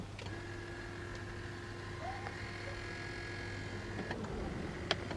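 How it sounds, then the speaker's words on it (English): A BMW seat's thigh-support motor runs with a faint, steady electric whine that holds for several seconds and then cuts off, over a low background hum with a small click at the end. "It's not coming out, but you can definitely hear the motor working."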